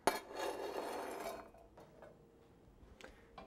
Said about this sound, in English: Now that the olive oil's warmed up, I'll add some of my onions